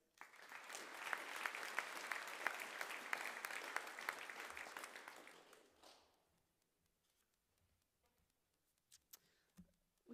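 Applause at a high school prizegiving in Gore breaks out in a steady, moderately loud round of clapping for about five seconds, then stops abruptly, leaving near silence with a few faint taps.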